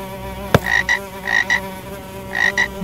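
A frog croaks in three pairs of short, raspy pulses, loud and close, over a steady musical background with a sharp click near the start.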